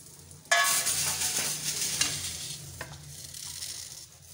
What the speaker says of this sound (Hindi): मैंने तड़का लगा दिया।